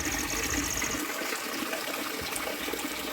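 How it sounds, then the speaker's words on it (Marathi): Spring water pours steadily from a gomukh spout at the ancient Keshavraj temple in Asud village near Dapoli, a continuous close rushing and splashing that fills the whole clip with no talk. "इथे बारामाही पाणी येतं गोमुखातून"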